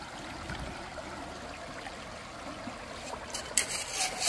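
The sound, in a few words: water flowing at a gold prospecting spot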